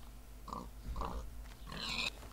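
A Minecraft pig gives a few short, faint grunts in quick succession, with no talking over them.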